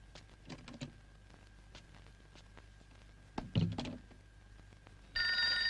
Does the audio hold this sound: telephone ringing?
yes